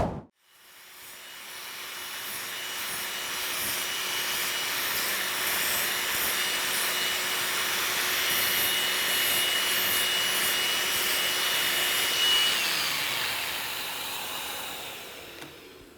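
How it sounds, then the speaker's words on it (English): A sanding disc on a power tool eases the corners of a tambour door cabinet, a steady, close whirring rub that holds for the whole stretch before winding down at the end. "Now with the sanding disc on, I can knock those corners down"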